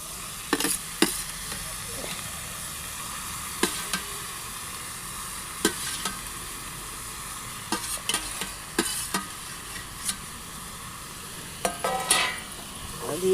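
Boiled saag greens cooking with softened tomatoes in a pan give a low steady sizzle, broken by repeated sharp scrapes and clacks of a spoon stirring.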